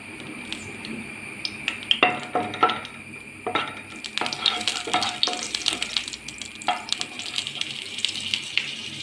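Nuts frying in melted ghee in a pan while a sweet snack made with dates is prepared, with a steady sizzle and frequent stirring and scraping of a spoon against the pan, close by.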